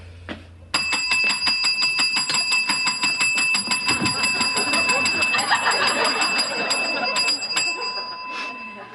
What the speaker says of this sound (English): You have been told never to ring that bell.